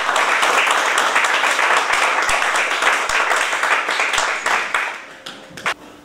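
An audience applauds a poet at a literary reading event, a dense sustained round of clapping that stays loud for most of the stretch, then thins out and fades near the end.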